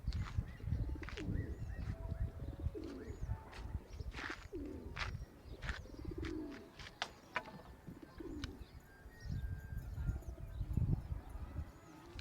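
Pet pigeons coo at close range, low throaty calls repeating in soft bursts throughout, with faint rustling and movement around them and no clear talking.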